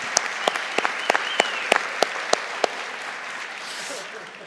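A small audience gives brief, sparse clapping at a French talk on artificial intelligence and new technologies: about a dozen separate hand claps over a few seconds, then fading into room noise.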